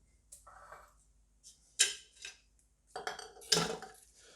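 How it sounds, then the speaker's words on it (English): Metal canning lids clatter and clink one after another into a pressure cooker pot, a handful of sharp bright knocks spaced across a few seconds in a quiet kitchen, close and fairly soft. "now I put the lids inside my pressure cooker to make sure that the jars don't have direct contact with the pot"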